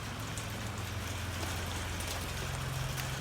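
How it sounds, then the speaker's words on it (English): Light rain starting to fall outdoors near a Scout 2 under restoration, a steady soft patter of drops on surfaces, with a low engine-like hum underneath and no talk. "It's just starting to rain."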